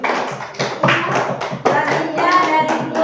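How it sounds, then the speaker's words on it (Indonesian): Classroom applause for a student group at an elementary school, a burst of close, uneven hand clapping from many children, with some voices mixed in. "Oke, tepuk tangan kelompok 3."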